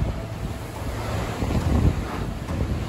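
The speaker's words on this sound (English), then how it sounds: "Wind's picking up." Strong wind roars across the exposed Grandfather Mountain summit in North Carolina during a windstorm with rime ice, a steady broadband rush buffeting the microphone and swelling in gusts, with no voices.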